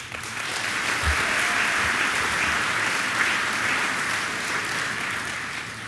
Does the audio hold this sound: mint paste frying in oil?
no